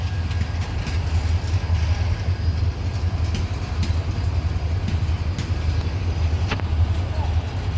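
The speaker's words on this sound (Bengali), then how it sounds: "এটা কর্ণফুলী ট্রেন" A large Karnaphuli passenger train rolls past as a loud, continuous low rumble with a steady clatter of wheels on rails, and faint voices can be heard under it.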